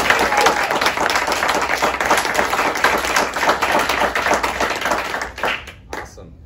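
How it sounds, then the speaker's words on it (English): Loud, close applause from a crowd at a blockchain conference welcoming a guest, dense rapid clapping that continues steadily, then fades out with a few final claps. "Please do me a favor and give him a round of applause and welcome him."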